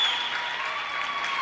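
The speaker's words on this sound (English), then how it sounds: "In the background, you hear the crowd." A crowd applauds steadily at a 1988 high school girls' gymnastics meet, a dense, even wash of clapping that holds at a consistent level throughout.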